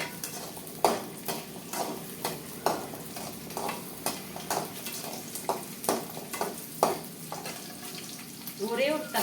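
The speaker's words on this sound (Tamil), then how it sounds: "வெங்காயம் போட்டு நல்லா வணக்கலாம்." Onions fry in a pan for eggplant curry, a constant sizzle broken by regular scraping stirs about every half second to second, close and fairly loud, with a faint voice near the end.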